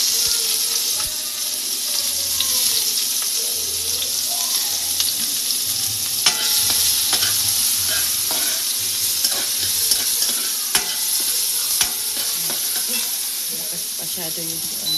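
Cabbage and onion sautéing in a pan give a loud continuous frying hiss and sizzle, with scattered clinks and stirring scrapes from close by and a voice faintly in the background.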